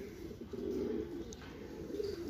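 Punjabi pigeons coo softly and continuously nearby, a low, rolling murmur of overlapping calls with no talk over it.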